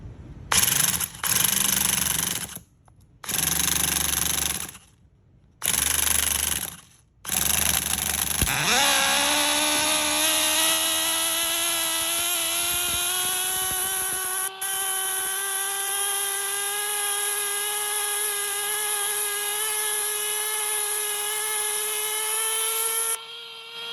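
A small high-pitched nitro engine in an HPI Firestorm RC car sputters in short bursts, then catches and screams at a sustained, rising whine for several seconds, loud and close.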